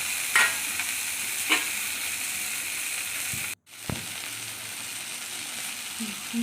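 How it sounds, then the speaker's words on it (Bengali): Spice paste with ginger stir-fried in a pan, a steady sizzle with a few spoon scrapes and stirs near the start, a brief cut of silence midway, then the frying resumes at moderate level. "মশলাটা ভালো করে কষিয়ে নিলাম"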